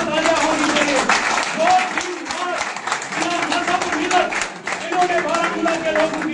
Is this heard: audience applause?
yes